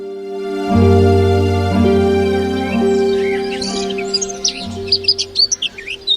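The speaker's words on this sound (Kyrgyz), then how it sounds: "Эшикте жаз жаңы келип, жашыл чөптөр чыгып, чымчыктар тынымсыз сайрап жатканы Аиданы дайыма кубантчу." Birds chirping and singing in spring, with bright short chirps and tweets rising over a sustained low musical drone, growing busier toward the end.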